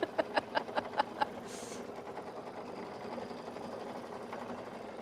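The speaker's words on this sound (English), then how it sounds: "we're just gonna get that quilting going. And now we have about 10 minutes." A Kimberbell embroidery machine quilting in the hoop gives a quick burst of about six rhythmic stitching taps, then settles into a steady low mechanical hum that runs to the end of the clip.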